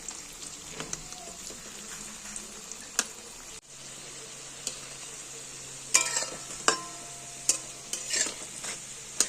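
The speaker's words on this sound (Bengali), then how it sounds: "সব পকোড়াগুলো সুন্দর করে ভাজা হয়ে গেছে" Cabbage pakoras frying in oil over a low gas flame give a steady close sizzle and crackle, with scattered sharp pops and spoon clinks, louder bursts toward the end.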